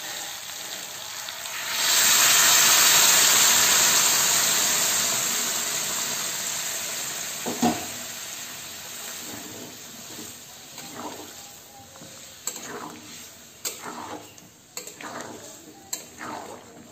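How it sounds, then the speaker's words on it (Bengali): Potol, potato and prawn gravy in a pot, a loud burst of steam and sizzle as hot water hits, then settling into bubbling with scattered utensil clinks and stirring knocks. "দেখতেই পাচ্ছ আমার গ্রেভিটা ফুটে উঠেছে"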